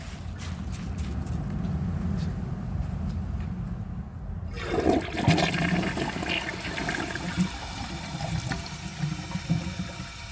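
A 2022 Mainstays high-efficiency toilet flushes nearby with the handle held down: quiet low rumble at first, then a sudden loud rush and gurgle of swirling water that continues to the end.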